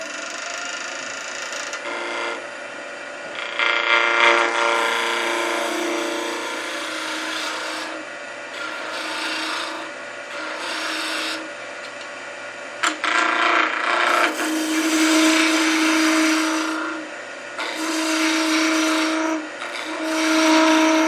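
Wood on a lathe being smoothed with scrapers during inside-out turning, a steady rasping scrape with harmonic tones that swells and eases in passes, loud and close with no talking.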